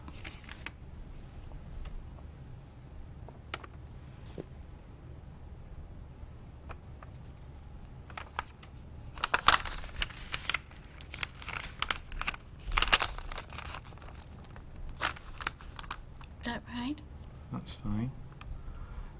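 A sheet of paper is handled, folded in half with both hands in a clinical memory test, giving scattered crinkles and a denser burst of rustling and creasing midway, with faint voices nearby.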